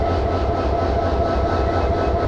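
Jamuna Express train with a 1500-horsepower Hyundai Rotem diesel-electric locomotive at Tarakandi railway station, giving a loud, steady, close rumble with a sustained engine tone and no voices.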